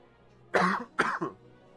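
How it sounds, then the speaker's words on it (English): Two sharp coughs in quick succession from a person streaming, close and fairly loud, with a short quiet gap between them and no talking. "Coughing throughout the whole stream."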